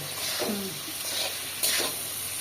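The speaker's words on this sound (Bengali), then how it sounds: "এটা একটু ভাজা ভাজা হোক" Spices frying in a pan for a home-style Bengali meal give a steady close sizzle, with a few louder scraping stirs near the end and no talk.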